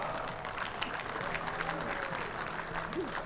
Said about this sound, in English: Big round of applause for Laura.